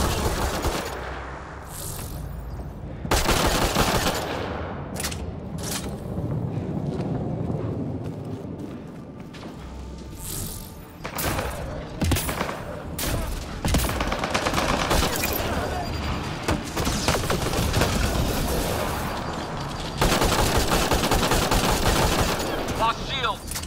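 Sustained bursts of enemy gunfire from a Mass Effect Andromeda firefight ring out loud and dense, with rapid automatic volleys and single shots overlapping throughout, mixed with game effects and occasional voices.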